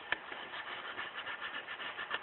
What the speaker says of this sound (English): This is the white automotive sandpaper.